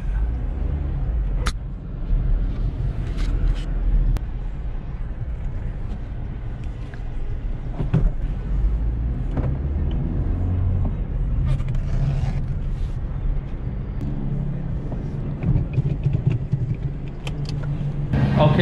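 A manual-transmission Honda Civic's engine rumbles low and steady throughout as the car rolls slowly into a body shop, with a few faint clicks and knocks over the idle drone.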